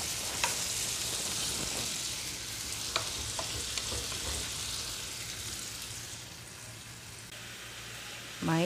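Bitter gourd sautéing in a pan gives a steady, close sizzle with scattered stirring clicks and scrapes, easing slightly toward the end before a brief louder clatter.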